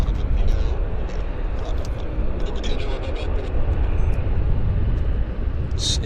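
A Lufthansa Boeing 747 rumbles on the runway at Vancouver Airport, a loud, steady low engine roar lasting throughout with broadband wind-like noise, and a voice speaks over it.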